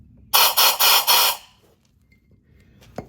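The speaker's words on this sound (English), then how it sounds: "I'm going to try to carefully press this in by hand as I blow air through it and past those seals." Compressed air from a rubber-tipped nozzle blasts through the brake hose inlet of a caliper from a 2002 Oldsmobile Bravada. Four loud hissing bursts come in quick succession, followed by quiet and a single faint click.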